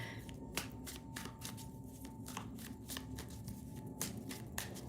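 Tarot cards are shuffled by hand at close range, a rapid run of crisp riffling flicks and snaps at an irregular rhythm, with faint background hum.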